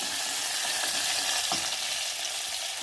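A pan of ingredients for mutton curry sautés with a loud, dense, unbroken hiss of frying, marked by a few soft stirring knocks under the steady sizzle.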